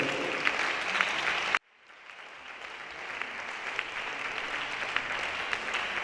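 A church congregation applauds in a dense burst that cuts off abruptly, then clapping swells again gradually and continues steadily, filling the room at moderate distance.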